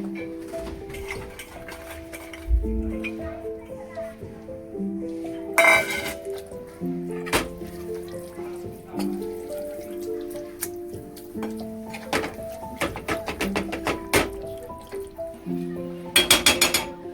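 Green peas tipped into mutton keema in a pot, with scattered light clinks of a spoon on metal and soft patters, quiet under gentle background music.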